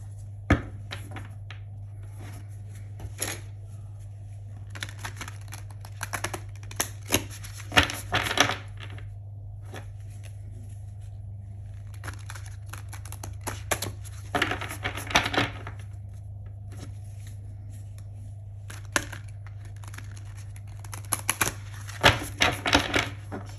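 Tarot cards shuffled by hand in an awkward, improvised way, giving intermittent bursts of soft riffling and clacking taps with quiet gaps between, set over a steady low hum, with no talk.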